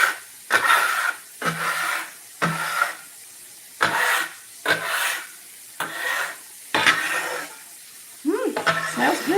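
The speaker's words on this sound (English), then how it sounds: "We'll scrape this off because there's cinnamon everywhere." Repeated scraping of spilled cinnamon off a kitchen surface, about nine short rasping strokes at a steady rhythm, close and clear, with a brief voice at the end.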